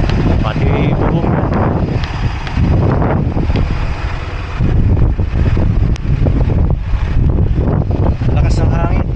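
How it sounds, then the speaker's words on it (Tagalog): Strong wind buffeting the microphone outdoors in Canada, a loud continuous roaring rumble with gusty swells, while people talk underneath. "Lakas ng hangin."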